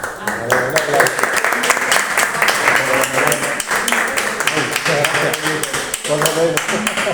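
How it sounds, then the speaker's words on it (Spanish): Audience applause at a Spanish-language talk-show presentation, a dense wash of clapping that runs the whole time at a steady level, with musical tones and voices mixed in underneath. "Un aplauso."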